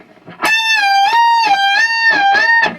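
An electric guitar plays part of a riff, a single ringing note held with wavering bends and vibrato, clean and close at modest volume.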